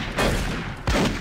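Enemy gunfire in Doom 3 on Xbox 360: two short, loud bursts of shots, the second starting near the end, with no talk.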